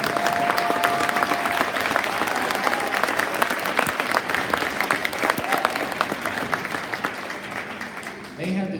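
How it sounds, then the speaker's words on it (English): A crowd at a spring band concert applauds continuously, a dense wash of clapping with some cheering, loud and sustained before tapering off at the end. "Let's give our Band Boosters a round of applause."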